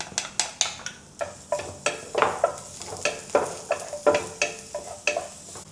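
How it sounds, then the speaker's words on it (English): Garlic sautéing in hot oil for a minced chicken topping, with rhythmic spatula scrapes against the pan repeating about every third of a second over a soft sizzle, close and without talk. "Heat some oil to saute the garlic."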